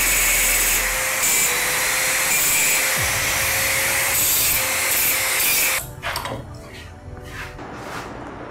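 A power tool grinds steadily through a weld on a scrap-metal bike chassis, a loud continuous whine and hiss lasting about six seconds before cutting off, followed by quieter clinks and scraping.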